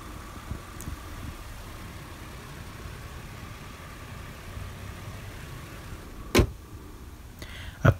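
A 2016 Audi A8 L engine idles as a steady, quiet low hum, with a couple of brief, sharper clicks or thumps near the end.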